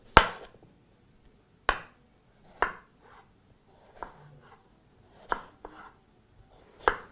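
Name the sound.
knife slicing potatoes into thin slices for fries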